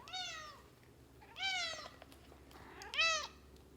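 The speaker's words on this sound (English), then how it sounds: "Look who arrived. It's Banjo, the kitty cat." A cat meows three times, clear and fairly close, each meow drawn out with a short pause between them.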